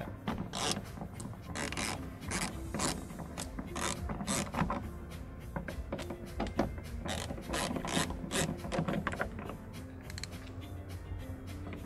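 Ratchet with a T30 Torx bit turning screws inside a 2015-2016 Jeep Grand Cherokee, a rapid run of close clicking and grinding strokes that keeps up throughout.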